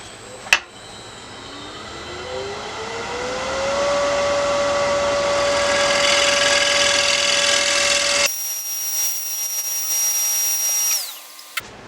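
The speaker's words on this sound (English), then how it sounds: "let's go ahead and give it a quick scrape" A spinning walnut bowl on a wood lathe is scraped with a turning tool. A motor whine rises steadily, then a loud, continuous broadband scraping rasp takes over, shifts abruptly in tone partway through and stops near the end.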